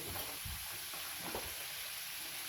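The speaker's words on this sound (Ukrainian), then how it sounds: "Ви його перемішуєте чи лопаткою, чи так." Food fries in a pan while a spatula stirs it, giving a constant close sizzle with a few soft scraping strokes over it.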